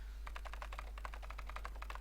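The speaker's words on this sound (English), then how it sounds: "As she typed, more letters and symbols that meant nothing to Junpei began to pour across the screen." Rapid, steady keyboard typing from the video game 999 (Nine Hours, Nine Persons, Nine Doors), a continuous run of close, crisp key clicks with no talking.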